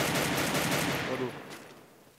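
Gunfire in the mobile battle royale game Free Fire: dense, rapid shots roll together into a loud burst that fades away over the last second.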